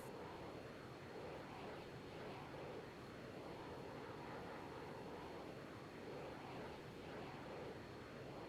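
Steady propeller-style engine drone of a close air support plane banking through a turn in the ARMA 3 video game, continuous and even with no talking.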